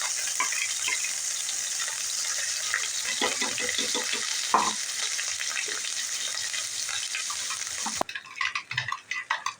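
Ground masala paste for a traditional mixed vegetable curry goes into a hot pan and fries with a busy, crackling sizzle and stirring clatter up close, then cuts to quieter, choppier spatters near the end.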